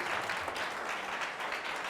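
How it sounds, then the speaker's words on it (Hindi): A church congregation claps for the Lord in a dense, steady patter of many hands, moderately distant and even throughout. "जोरदार ताली बजाएंगे प्रभु के लिए।"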